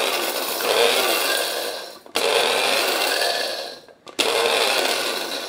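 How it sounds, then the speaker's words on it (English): Electric spice grinder pulsing flax seeds, a tablespoonful at a time: loud, close whirring bursts, each running about two seconds, separated by brief drops to near-silence. "So every morning, I now grind my flax seeds in here."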